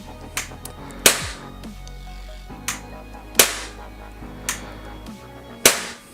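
A Tokyo Marui HK USP Compact airsoft gas blowback pistol fires several sharp, dry cracks at irregular intervals, each with a quick slide snap, close and loud with no talking.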